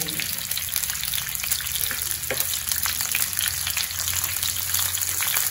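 Coriander seeds and cumin fry in a little oil, giving a constant dense crackling sizzle with scattered sharper pops, close and fairly loud throughout.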